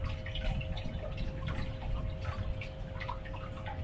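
Water flows steadily through a fish valve into a Kono II boat, making a continuous, fairly quiet watery wash with small trickling details and a faint steady hum beneath.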